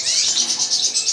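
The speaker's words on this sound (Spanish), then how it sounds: "estos pajaritos que os voy a mostrar ahora" Newly hatched baby birds chirping in a nest, a rapid, close series of thin high peeping calls that pulse repeatedly throughout.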